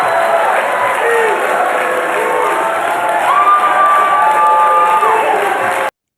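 A crowd at a Trump event cheers and shouts loudly and continuously, with whoops and a long held yell rising above the roar before it cuts off abruptly.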